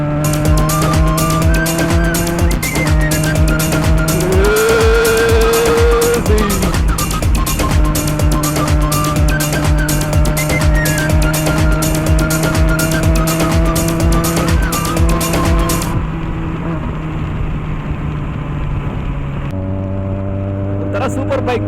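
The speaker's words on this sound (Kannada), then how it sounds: "ಏನೇ ಇದು ಸೂಪರ್ ಬೈಕ್ ಅಲ್ಲ, ಬೆನೆಲೆ 300 ಟೊರಾಡೋ" A Benelli 300 Tornado motorcycle rides along a road near Chikkaballapura, its loud exhaust droning steadily close to the microphone, with pitch rising through revs and dropping at gear changes near the end.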